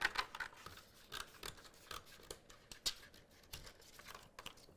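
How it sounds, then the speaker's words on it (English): Quiet, close snipping and crinkling as scissors cut off excess vinyl backing, a series of short irregular snips and rustles. "I'm going to grab my scissors, cut off this excess backing"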